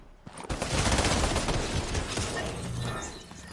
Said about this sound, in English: Two people firing at you.